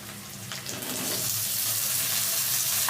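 Potatoes fry in hot oil in a pan after onions for a pumpkin and potato curry, giving a close, steady sizzling hiss that builds within the first second and then stays loud and even.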